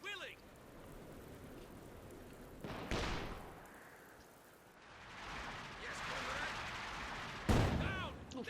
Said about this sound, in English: Spartan tank hunters, they're almost hit by the light infantry gun.